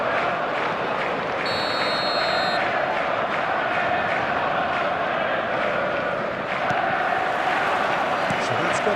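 A stadium crowd roars steadily at a video game football match, a dense, loud wash of cheering and chanting that carries on throughout with a commentator's voice over it.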